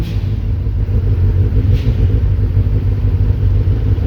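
Deep, continuous engine rumble from race cars at a sprint race track in Kames, loud and steady with a brief higher surge partway through.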